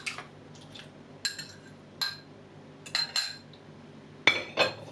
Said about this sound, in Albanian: do shtoj vezën, do t'i rrah pak